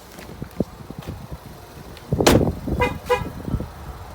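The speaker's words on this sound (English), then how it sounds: "The vehicle will automatically chime on the inside and beep to let you know that the key fob has lost proximity of the car" A 2015 Ford Escape Titanium sounds a few short horn-like beeps, signalling that the key fob has lost proximity, over quiet outdoor background and wind noise.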